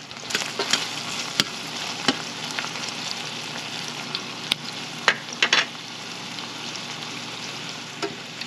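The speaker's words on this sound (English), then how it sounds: "we just wanna cook this down slowly to caramelize the onions a little bit." Onions caramelizing slowly in a pan give a steady low sizzle, broken by a few sharp clicks and scrapes of stirring, with no voices.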